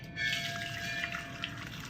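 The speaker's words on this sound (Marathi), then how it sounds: "आता हे मी पाणी काढून घेते" Water drained off cooked food in a home kitchen during festival cooking, a soft close trickle and dribble running steadily for the whole two seconds, with faint background hum.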